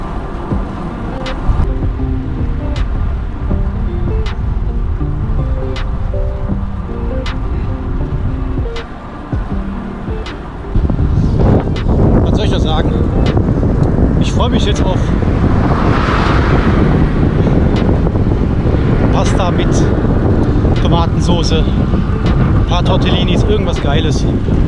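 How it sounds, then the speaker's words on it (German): Wind blowing while bikepacking in the Eifel, a loud continuous rush buffeting the microphone, with a brief lull near the middle and scattered clicks and rattles over the roar. "hast du hier vor allem Wind"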